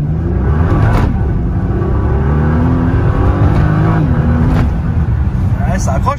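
Nissan GT-R sports car driving, its engine droning loud and steady throughout with rising and falling rev tones, under continuous talk from people inside.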